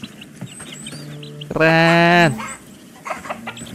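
A chicken in the medieval survival game Bellwright lets out a single loud, drawn-out squawking call in the middle, with quieter farmyard clucks and a brief voice before and after.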